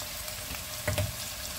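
Sliced lean meat and potatoes stir-frying in a pan, a low steady sizzle with a couple of brief scraping stir sounds near the middle, fairly quiet and close.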